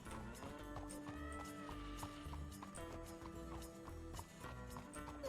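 Hoofbeats come from a horse in the RedM Red Dead roleplay video game. The clip-clop rhythm runs steadily and fairly faint beneath sustained musical tones, with a hint of a whinny.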